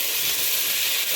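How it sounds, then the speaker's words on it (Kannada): Chopped tomatoes being stirred into frying onions in a pan, a steady close sizzle with soft scraping of the spoon running continuously with no talk. "ಇದು ಟೊಮೆಟೊನ ಈ ಥರ ಮಿಕ್ಸ್ ಮಾಡಿಕೊಂಡು ಒಂದು 5 ನಿಮಿಷ ಲೋ ಫ್ಲೇಮಲ್ಲಿ ಇದನ್ನು ಬೇಯಿಸ್ಕೊಳ್ಳೋಣ"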